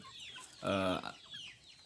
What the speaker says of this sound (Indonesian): ini adalah ayam-ayam yang memang saya lepas liarkan